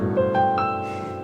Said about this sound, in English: If you switch them so that the intervals on the bottom are tight and the intervals on top are wide,